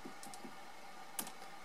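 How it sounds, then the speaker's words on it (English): Soft, quiet clicks of keys on an external MIDI keyboard being played, a few light taps scattered over a second or so with no talking. "I'm playing the keyboard, the same keyboard that this is"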